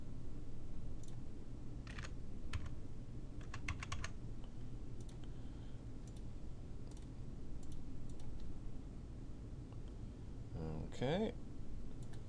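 Someone types on a computer keyboard while entering a verification code during an online account signup, scattered quick bursts of key clicks close by, with a person briefly speaking.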